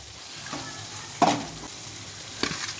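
Cut boiled eggs drop into a sizzling pan of thickened masala with chili powder, turmeric and salt. A steady close fry is broken by soft thumps and bursts of sizzle as the pieces land and are stirred.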